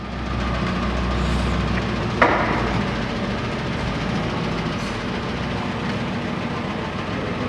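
A Monarch 16 x 54 lathe turns at 168 RPM with a steady, low mechanical hum and drone throughout, marked by one sharp knock partway through.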